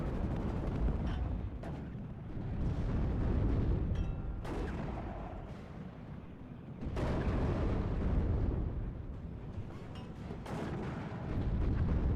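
In the WARNO real-time strategy game, mortar shells pound in a continuous rolling barrage of dull, distant-sounding blasts and crackling artillery, with occasional sharper impacts standing out from the rumble.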